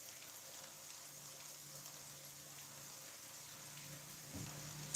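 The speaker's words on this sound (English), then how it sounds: "it's not raining quite as hard as it was" Steady rain falls outdoors as a soft, continuous hiss, with no voices and only a faint thump near the end.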